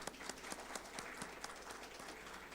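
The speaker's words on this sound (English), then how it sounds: "Can we have a big round of applause" Faint, distant applause from a tech community event audience welcoming speakers, a brief patter of many hands clapping, quiet and thin as if heard through a livestream.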